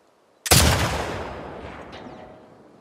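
A single loud gunshot in The Last of Us Part II cracks sharply after a moment of quiet, then its echo decays slowly over two seconds.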